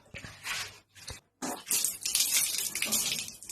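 Tap water runs into a sink during face washing, a broad hissing splash that breaks off briefly near the start, then resumes steady and close for the rest.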